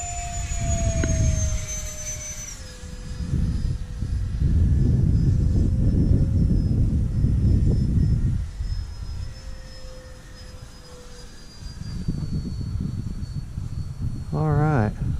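An SR-71 jet makes a full-speed pass into the wind, a loud sustained jet roar that swells and fades in waves with a high whine running through it, while people talk over radio-like chatter.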